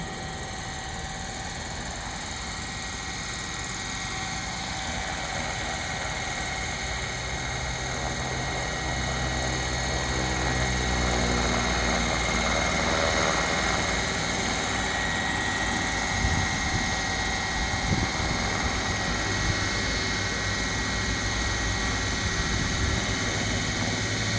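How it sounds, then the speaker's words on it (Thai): A large Apache size 700 radio-controlled model helicopter on a 12-cell battery flies and comes in to land, its rotor and motor roar holding loud and steady, swelling slightly as it nears, with no talk. "บินสวยมาก ๆ เลยครับอาพาเช่เจ็ดร้อยครับผม"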